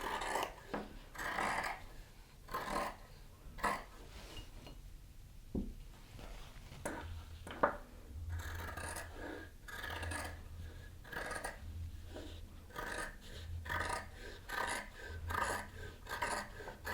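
Scissors snipping through fabric pattern pieces for a sewing project, a series of close, dry rasping cuts in irregular bursts with short pauses between strokes, over a low hum.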